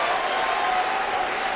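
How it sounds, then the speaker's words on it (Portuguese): A church congregation applauding, dense continuous clapping that stays loud and steady from start to finish with no pauses. "Oh glória! Senhor, estas palmas são para ti."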